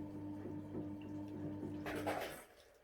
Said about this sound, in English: I'm putting in hot water just to speed up the cooking time.